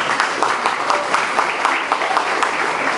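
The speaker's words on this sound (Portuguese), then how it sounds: "Uma salva de palmas." An audience gives an honoree a round of applause at a literary presentation in São Luís, with steady, fairly loud clapping and some sharper individual claps throughout.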